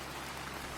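Light rain patters in American Truck Simulator, a short, quiet, even wash of droplets over a low steady hum, with nobody speaking.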